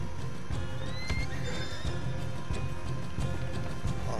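A horse in the Western video game Red Dead Redemption 2 whinnies with a rising, wavering call over steady background ambience and soft hoof clops, with no one talking.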